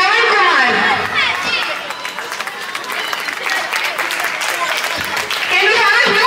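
Loud, dense audience applause fills the hall at a temple wedding festival celebration, sustained throughout with crowd chatter and cheering mixed in, swelling again near the end.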